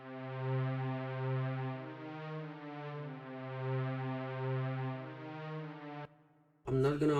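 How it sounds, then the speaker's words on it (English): Sustained strings from the Purity plugin play a slow MIDI melody in rich, layered harmonics, holding long notes before cutting off near the end, where a short brighter burst follows. "Then I added these strings from Purity that will sound like this."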